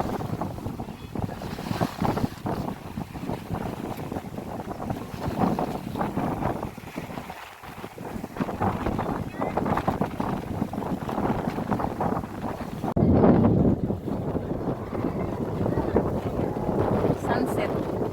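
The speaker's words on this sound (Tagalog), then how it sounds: "Mahangin dito guys." Steady wind blows across the open shore of Laguna de Bay, a continuous broadband rush buffeting the microphone with gusts swelling and easing, loud throughout with a speaking voice partly under it.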